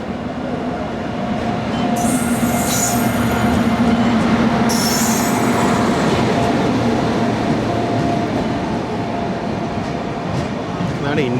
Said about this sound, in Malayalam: മുംബൈ ഛത്രപതി ശിവാജി മഹാരാജ് ടെർമിനസിൽ നിന്നും ഗോവയിലെ മഡഗാവിലേക്ക് പോകുന്ന 12051 ജനശതാബ്ദി എക്സ്പ്രസ് ആണിത്.